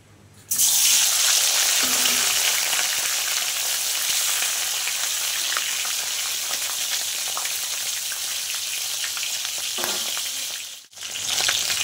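Hilsa fish heads fry in hot oil with a loud, bright crackling sizzle that starts suddenly and carries on steadily, briefly dipping near the end.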